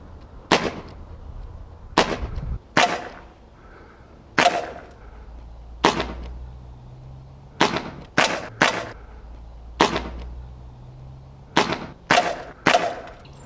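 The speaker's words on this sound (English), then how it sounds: "Let's shoot at the target." A Smith & Wesson 327 TRR8 CO2 BB airgun fires at a target about ten metres away, with roughly thirteen sharp, close snapping cracks spaced irregularly, some in quick pairs and triplets, and quiet gaps between them.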